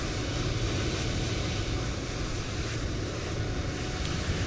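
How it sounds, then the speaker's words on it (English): An airliner in Microsoft Flight Simulator 2020 at Hong Kong airport, heard as a steady, loud, broadband jet roar with a low rumble, unchanging for the whole stretch. "That is our airplane in the background."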